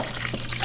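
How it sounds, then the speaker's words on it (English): Water poured into a pot of rice being cooked, a short continuous gushing splash, loud and close, with no talk. "We're gonna add the water in."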